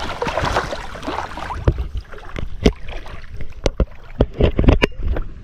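A small fishing boat moving through strong-current water, with splashing, sloshing and intermittent knocks and thumps against the hull, fairly loud and close.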